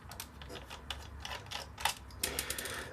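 Screws are taken out of a solar/mains rechargeable fan and work light, with quiet close-up clicks, scrapes and small metallic ticks in an irregular run.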